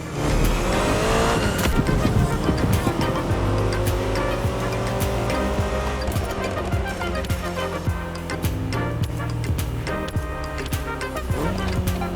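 An Abarth driven in the racing game The Crew Motorfest, its engine droning steadily and loud throughout, with layered game music and tire noise mixed in and no talking.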